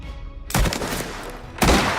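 Loud gunshots in Mafia: The Old Country, two separate heavy bursts of fire with a booming low thump at each onset, close and punchy, with a short gap between them.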